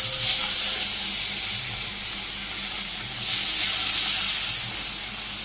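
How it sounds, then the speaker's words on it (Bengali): Fish fries in hot oil in a wok in a Bangladeshi village kitchen, giving a continuous hiss with two louder bursts of sizzling about three seconds apart. "কড়াই গরম হয়ে গেছে, আমি মাছগুলো ভেজে নিই।"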